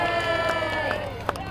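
A crowd cheers for a knight on a black horse at a medieval joust at Leeds Castle, a steady blended roar of voices with a short sharp shout near the end.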